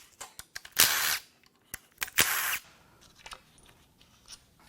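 A power tool spins out bolts around the head perimeter of a 2020 Silverado 1500 with a failed 3.0 Duramax engine, giving two short loud bursts amid scattered clicks and handling knocks close by.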